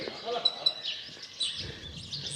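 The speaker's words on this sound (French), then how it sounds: "Vous entendez les oiseaux?" Small birds chirp in short, bright bursts over a quiet outdoor murmur in the Plaza de la Glorieta town square in Níjar, Spain, with a voice talking nearby.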